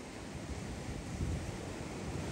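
Ocean surf washes against the shore in a continuous roar, with gusts of wind buffeting the microphone and no talking.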